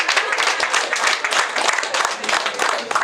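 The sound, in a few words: audience applause at a graduation ceremony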